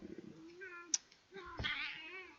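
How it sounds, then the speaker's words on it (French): A house cat meows several times nearby, drawn-out tonal cries with a wavering, caterwaul-like rise toward the end, with a brief sharp click in between and no talk. "Oui, le chat."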